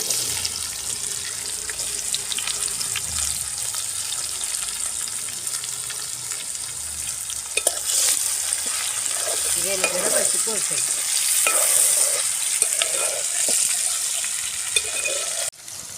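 Onions sizzle and fry in a pan with a steady bright hiss, joined midway by scraping stirs and clinks of a spoon against the metal, close and continuous, no voices.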